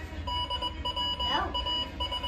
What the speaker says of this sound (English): Can't miss that beep, can you?